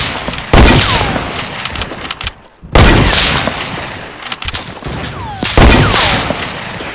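Loud gunfire in Fortnite: three heavy volleys of sharp shots with booming reports, each followed by scattered echoing pops and short lulls, with no talking over it.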